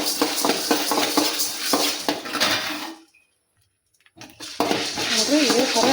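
Grain being roasted for festival puffed snacks gets stirred in a pan, a continuous scraping and rattling that stops abruptly for about a second, then resumes, with a voice joining briefly.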